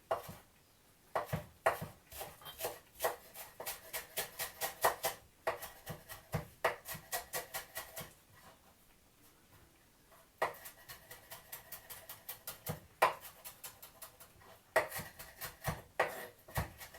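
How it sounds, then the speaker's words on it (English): Knife chopping fresh coriander on a board for a Thai red curry, a quick run of sharp rhythmic chops in bursts, a brief pause midway, then more chopping, close and clear. "I'm going to chop the coriander, because you've got to have coriander with Thai curry"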